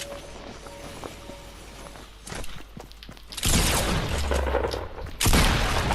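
Gunfire in a shooter video game with a suppressed SCAR and a shotgun, quiet footsteps and mechanical clicks giving way to a loud, sustained burst of shots close by, then a second heavy burst at the end.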